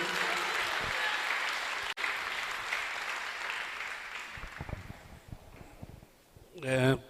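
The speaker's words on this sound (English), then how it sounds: "Let's give him a round of applause." Audience applause at an opera concert in Kimberley, Northern Cape, swells at the start and fades out over several seconds, followed by a few scattered sounds and a brief voice at the end.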